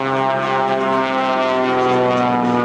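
Aerobatic propeller airplane at an airshow flying a hammerhead stall turn, a sustained loud droning engine with strong steady harmonic tones that hold level throughout.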